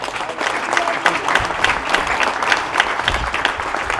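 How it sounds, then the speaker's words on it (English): Crowd applause at an academic building grand opening ceremony, a loud, lively round of many hands clapping with some louder individual claps, continuous across the whole span and without speech over it. "Another round of applause there."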